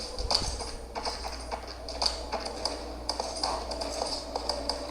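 Steady clip-clop of a horse's hooves galloping in the PlayStation 2 game Shadow of the Colossus, a continuous rhythmic drumming over the game's ambient background.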